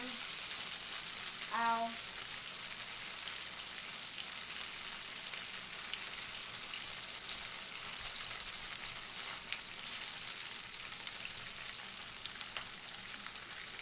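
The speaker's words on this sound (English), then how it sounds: "Be careful because the oil will dump. And I'm also going to be adding the veggie bacon" Veggie bacon frying in hot oil in a pan, a steady broadband sizzle running throughout with a brief spoken exclamation near the start.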